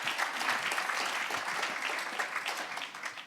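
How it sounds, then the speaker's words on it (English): Audience applause at a work-themed conference, a dense steady clapping that fills the room evenly from start to finish with no talk over it. "give them a round of applause, please"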